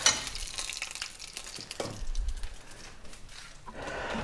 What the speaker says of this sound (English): Now we get to sizzle to death.